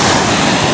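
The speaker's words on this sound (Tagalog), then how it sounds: "Malakas ang alon ngayon mga idol." Strong sea waves breaking on the shore, a loud continuous wash of surf mixed with wind buffeting the microphone, brief and close.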